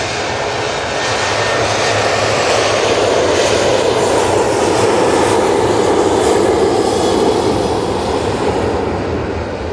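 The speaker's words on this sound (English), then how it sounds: "there's a Virgin Atlantic about to pop into view" A Virgin Atlantic airliner arriving at Manchester Airport, its loud jet roar swelling and sweeping past close by with no voices over it.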